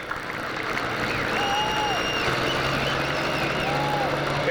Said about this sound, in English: How about a nice round of applause for Sonny Snyder in a 966 IH.